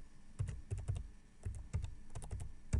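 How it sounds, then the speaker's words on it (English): Typing a researcher's surname on a computer keyboard: a quick, uneven run of close keystrokes, about a dozen clicks in bursts, with no voices. "So you type in the surname,"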